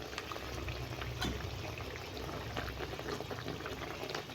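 Mustard fish gravy (jhol) with pabda fish simmering in a pan, a steady close bubbling and hiss with faint pops throughout, no voices.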